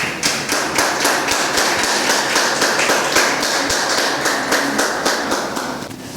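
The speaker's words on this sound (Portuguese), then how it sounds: "aplauda Jesus e pode se sentar" Church congregation applauding in a worship service, a steady dense wash of clapping with sharper taps standing out, sustained at even loudness throughout.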